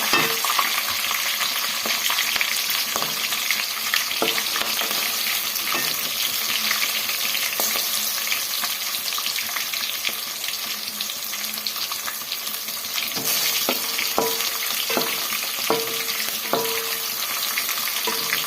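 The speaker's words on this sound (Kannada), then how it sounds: "ಇಷ್ಟು ಫ್ರೈ ಆದಮೇಲೆ ಇವಾಗ ನಾವು ಹಸಿಮೆಣಸಿನ್ಕಾಯಿ, ಕರಿಬೇವು ಸೇರಿಸ್ಕೊಳ್ಳೋಣ. ಇದನ್ನೆಲ್ಲ ಕಡಿಮೆ ಉರಿಯಲ್ಲಿ ಫ್ರೈ ಮಾಡಿಕೊಂಡ್ರೆ ನೀಟಾಗಿ ಕ್ರಿಸ್ಪಿಯಾಗಿ ಬರುತ್ತೆ" Green chillies and curry leaves crackle and sizzle in hot oil over a low flame for a quick poha dish, a steady close frying hiss with scattered spatula taps throughout and no voices.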